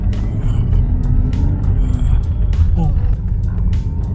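A BMW 323i E36 cruising on a straight road, its low engine and road rumble steady and close throughout, with someone talking over it.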